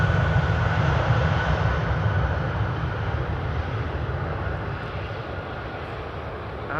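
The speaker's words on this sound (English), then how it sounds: "A320 from ITA having arrived here from Rome" An ITA Airways Airbus A320 arriving from Rome at Amsterdam Schiphol, a steady, loud engine roar that slowly fades as the jet rolls past, with no voices.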